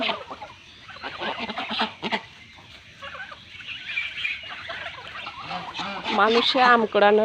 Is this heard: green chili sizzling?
no